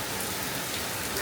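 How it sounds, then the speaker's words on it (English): Heavy rain comes down hard in a dense, steady hiss of countless drops striking surfaces, loud and close, with no voices over it. "It is a lot of rain today. It's a ton of rain."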